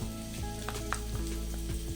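Onions sizzle and fry in a pan for Kashmiri aloo dum, a close, steady crackle with faint tonal hums and occasional stirring scrapes.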